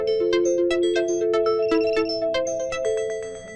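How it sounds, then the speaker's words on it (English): A phone plays a bright, melodic ringtone, a rapid sequence of clear electronic tones that rings loud and close, then fades slightly toward the end. "you can probably hear some of the ringing that went on"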